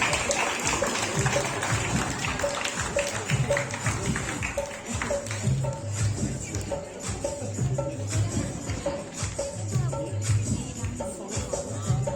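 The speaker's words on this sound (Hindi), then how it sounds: "200 तालियां हो जाएगी प्लीज।" Crowd clapping at a parish competition during a May procession celebration in Sambalpur, a sustained, dense patter of applause with a voice heard over it.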